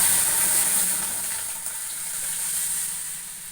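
Dried red chillies and curry leaves spluttering in hot oil for a tempering for hotel-style tiffin sambar, a steady close sizzling hiss that slowly fades, with no talk.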